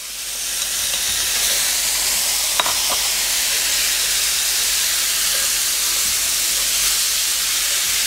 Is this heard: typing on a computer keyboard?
no